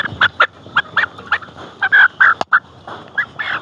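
Layer chickens on a poultry farm cluck and squawk in short, loud bursts close by, several birds calling in an uneven rhythm with no talking.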